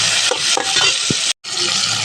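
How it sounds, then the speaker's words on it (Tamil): Tomato and green chili sautéing in a pan for rava kichadi, a loud, dense sizzle with spatula scrapes and knocks, briefly cut off by a moment of silence before the hiss resumes. "தக்காளி பச்சை மிளகாய் ஆட் பண்ணி இப்போ வதக்கி விட்டுக்கிறேன்"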